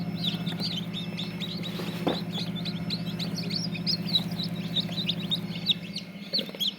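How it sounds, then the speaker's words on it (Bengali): Tiger chicken chicks chirp in rapid, overlapping high peeps over a steady low hum, with a brief louder knock midway and continuous cheeping throughout. "এগুলো টাইগার মুরগির বাচ্চা"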